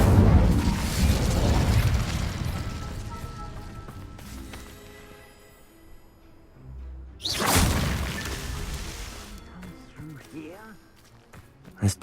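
An Incendio fire spell in Hogwarts Legacy bursts out as loud roaring whooshes of flame with booming impacts, fading, then flaring again in a second blast, amid game music and effects, up close.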